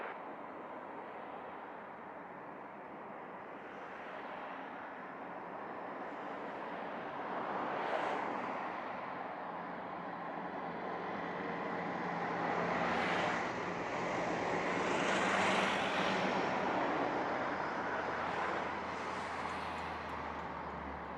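An airplane at Montego Bay airport, Jamaica, produces a broad, continuous jet roar that swells and fades over about twenty seconds, heard from a distance outdoors.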